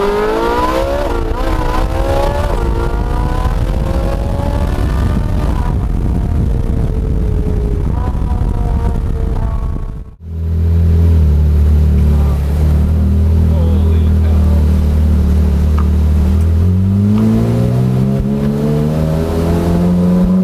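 A Ferrari 458 Spider's engine revs hard while driving on a sunny Seattle road, loud and close with rising and falling pitch sweeps; a brief dropout midway, then a deeper steady drone that climbs again as the car accelerates.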